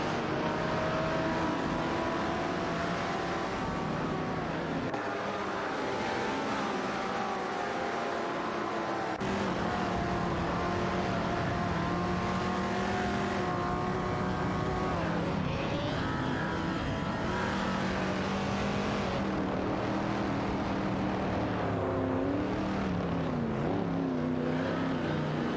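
Race cars drive in an AI racing game, giving a steady, continuous drone of engines with shifting pitched whine as several cars pass, sounding like a busy track from a distance and heard alone without talking.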